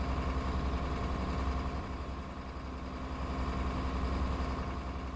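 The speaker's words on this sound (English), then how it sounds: "you can hear the engine louder" Steady low diesel engine drone of a London number 12 bus in the Omsi 2 driving simulator, a continuous loud hum with a mid-frequency whine running throughout, no talking.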